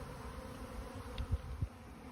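A hovering swarm of thousands of bees over a yard gives a faint, steady low buzz, with a couple of brief nearer thumps or passes standing out briefly above the drone.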